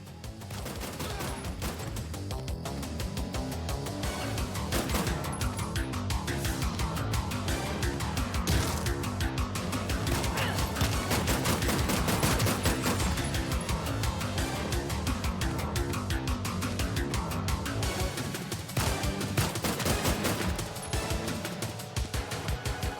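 Dense, continuous gunfire from the Terminator 2D No Fate video game's police station level, rapid bursts layered with a driving music track, loud and unbroken throughout.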